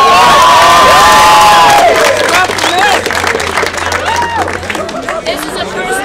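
A loud crowd at a Garfield teachers' rally in Seattle cheers and shouts, with whoops and high voices rising over steady applause, then settles into a dense, continuous roar of cheering and chatter.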